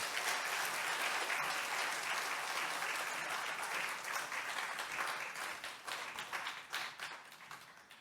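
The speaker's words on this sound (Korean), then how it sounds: "우리 박수로 한번 목사님 모시겠습니다" Church congregation clapping to welcome a visiting pastor, a full, dense round of applause that gradually thins into scattered individual claps near the end.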